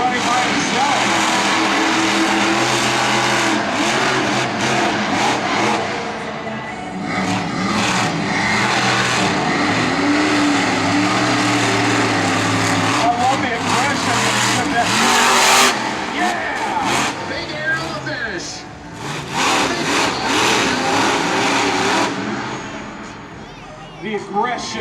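A 1,500-horsepower drift car revs hard and slides at a motorsport drifting event, with loud rising and falling engine roar and tire noise, while commentators talk over it throughout.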